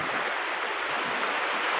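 Water of the Payra river rushing steadily during Cyclone Remal, a dense continuous broadband roar of current and wind with no pauses and no voices.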